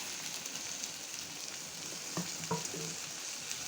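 Onion and garlic sizzle steadily in mustard oil for a spicy mango pickle, a dense, even hiss close by with a few soft stirring knocks near the end.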